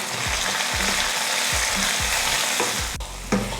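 Onion and a small tomato sautéing in a pan, a continuous sizzle punctuated by rhythmic stirring scrapes every half second, close and moderately loud.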